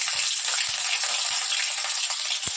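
Green chillies frying in sunflower oil, a steady close hiss and crackle of sizzling filling the clip, with small pops and spatters scattered through it.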